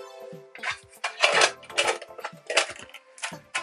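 Trangia aluminium mess tins, a small 210 and a large 209, handled and flipped over, giving a series of light metallic clinks and clatters in irregular bursts, close and fairly quiet.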